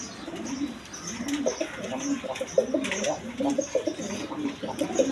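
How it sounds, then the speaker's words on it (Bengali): A female Rajgolla pigeon coos close by in repeated soft, rolling phrases, with more cooing and chirps around it and a voice now and then. "রাজগোল্লা মাদি কবুতর"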